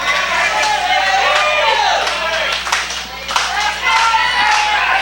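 A wrestling crowd claps in unison at a CWF Mid-Atlantic match, rhythmic hand claps mixed with crowd noise while a commentator talks over them.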